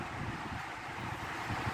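Strong outdoor wind roars steadily and loudly into the microphone, a constant gusty rush with no voices.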